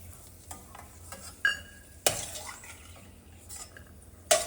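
Grated carrot frying in ghee in a pan for gajar ka halwa, a soft steady sizzle broken by a few sharp spoon knocks and scrapes against the metal pan.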